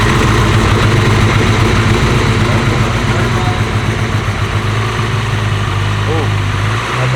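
A Nissan S15 Silvia with a VVL engine idles loudly and close with a steady, throbbing low rumble, the revs dipping slightly near the end.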